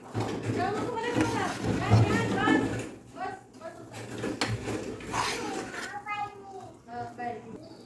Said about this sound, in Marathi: परत एकदा मी मिक्स करून घेते सगळं